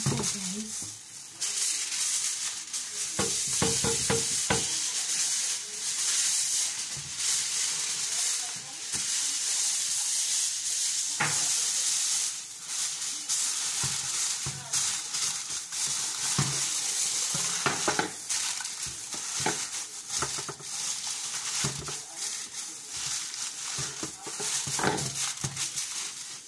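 A home-cooked fish mixture sizzles steadily in a hot pan, a continuous bright hiss broken by repeated scraping and stirring strokes, close and fairly loud throughout.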